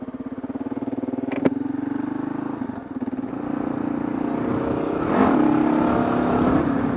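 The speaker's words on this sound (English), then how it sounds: "Little third gear pop-up wheelie for y'all." Kawasaki KLR650 dual-sport motorcycle revving hard in third gear to pop up a wheelie, its steady engine drone climbing in pitch and growing louder, close and alone without voices.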